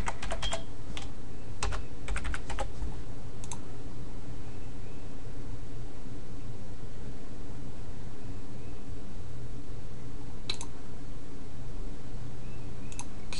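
Keys clatter on a computer keyboard in short bursts of typing, entering login details, with long quiet stretches between bursts against a steady background hiss.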